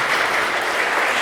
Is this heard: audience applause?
yes